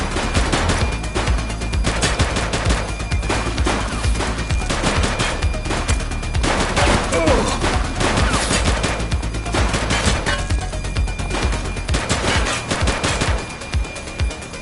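Sustained gunfire in The Precinct video game, dense automatic bursts and rapid shots crackling loudly and continuously with no pause.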